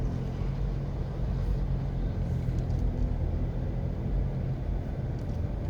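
A car driving along Red Hills Road toward Havendale in Jamaica, with a steady low engine and road rumble heard from inside the car, constant throughout with no talk.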